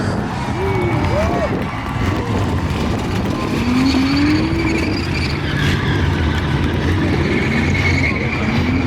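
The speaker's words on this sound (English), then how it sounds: "trying to do a little burnout down there on the burnout pad" A stacker race car does a burnout on a worn burnout pad at a destruction derby event, its engine roaring steadily with rising and falling revs and tire noise. Crowd and announcer voices sit underneath.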